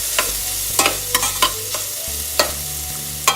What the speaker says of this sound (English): And let those onions caramelize a little bit more.